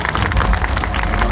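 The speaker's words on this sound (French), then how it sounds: "applaudissez à tout le monde." A large crowd applauds and cheers steadily at an outdoor diving show at Parc Astérix, a dense, continuous wash of clapping without a break.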